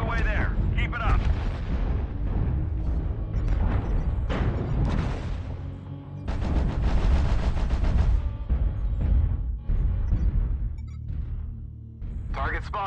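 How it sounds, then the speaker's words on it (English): Airstrike explosions and gunfire in a video game's trick-or-treat loot bag event, heavy booms and crackling shots rolling almost continuously for the whole stretch, loud and dense, with a voice talking over the battle. "Airstrike online."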